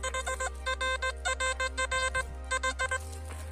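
XP ORX metal detector beeping over a strong target while a person detects in a dry forest. Rapid pulsed beeps come in quick bursts over a steady low hum, loud and close, with no talking.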